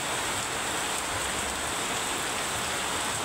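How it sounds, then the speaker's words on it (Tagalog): Heavy, continuous rain pouring down, a dense, even roar with no breaks and no voices. "Ulan oh."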